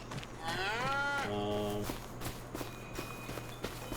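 A Limousin bull in a farming video game lets out a long, low moo, loud and near, followed by soft hoof-like steps over a steady background hum.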